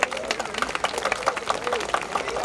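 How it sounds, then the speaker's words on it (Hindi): Audience applause at a 2024 Ramleela stage performance, a short burst of rapid clapping from a crowd with a voice talking over it. "इस बच्ची के लिए तो खास तालियां हो जाए।"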